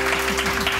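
Studio audience applause on a morning TV talk show, a brief, dense wash of clapping heard steadily throughout at close range.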